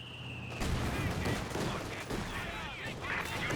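Gunfire in Company of Heroes 2: dense rattling bursts of rifle and machine-gun fire, loud and continuous, mixed with battle noise after a brief quieter opening.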